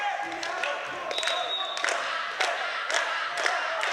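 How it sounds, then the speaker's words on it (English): A crowd at a high school boys volleyball match cheers and shouts excitedly, with ball thuds and squeaks amid the gym din and a voice talking over it. "And you can hear the crowd with the excitement."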